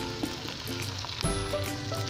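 Peas and carrots hit a pan of softened garlic and ginger paste for fried rice, giving a steady sizzle with a brief sharper burst of frying partway through, over a faint tonal background.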